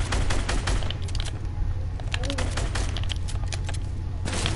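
Fortnite shotgun fire in a busy 1v1 playground match: repeated hard blasts come amid constant gunfire and game noise, with a loud, dense mix throughout and voices talking over the action.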